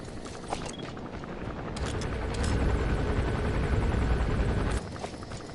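A helicopter in the Metal Gear Solid V: The Phantom Pain video game keeps up a loud, steady rotor roar throughout, with bursts of gunfire crackling over it.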